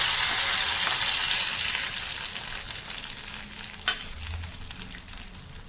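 Tempering poured into a pot of non-vegetarian sambar curry, a bright loud sizzle that fades over a few seconds, with a brief clink midway, close up and without speech.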